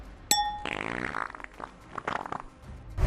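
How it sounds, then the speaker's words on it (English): A woman on a weight-loss reality show passes gas in a brief, brassy, trumpet-like blast, followed by sputtering, uneven rumbles at moderate loudness. "her world-class ability to fart on camera"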